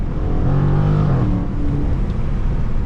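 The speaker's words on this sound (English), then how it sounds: "my engine's stuttering again." A Dodge Charger Scat Pack widebody engine rumbles loudly and close, with its pitch wavering and dipping unevenly, like a stuttering rev under steady low road drone.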